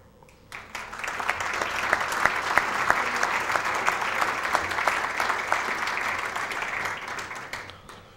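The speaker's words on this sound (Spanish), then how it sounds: "brindar un aplauso a los residentes de la Villa de García" Audience in a session honoring residents of Villa de García breaks into steady applause, a dense wash of clapping that swells quickly, holds for several seconds, then tapers off.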